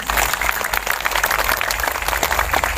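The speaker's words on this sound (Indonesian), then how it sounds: "Tepuk tangan dulu dong." An audience at an Indonesian religious gathering applauds, a dense continuous patter of many hands clapping at an even level for the whole stretch, with no talking over it.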